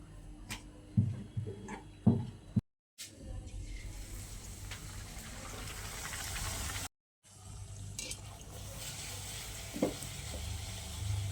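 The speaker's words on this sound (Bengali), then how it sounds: "কড়াই তেল বসিয়ে দিয়েছি।" Oil heating in a kadai (wok) sizzles and fries steadily for several seconds, broken by two brief silent gaps, with a few clinks and stirring knocks near the start.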